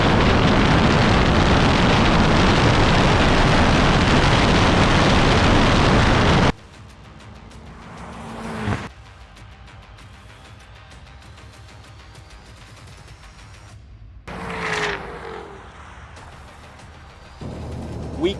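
Several sports cars, a Jaguar F-Type, BMW M8 Competition, Chevrolet Corvette C8 and Mercedes-AMG GT S, launch together in a drag race; a loud, sustained roar of wind-buffeted engine noise cuts off abruptly, then quieter bursts follow.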